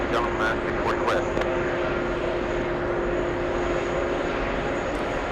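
An ITA Airbus A330neo jet at Kennedy airport gives a steady engine roar with a sustained whine. Voices talk over it at the start.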